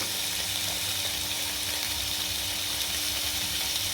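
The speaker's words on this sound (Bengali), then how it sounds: "দেখো বন্ধুরা, এখন আমি আলুটাকে ভেজে নেব।" Potatoes frying in a pan with salt give a dense, even sizzle that runs unbroken and close throughout, with no talk.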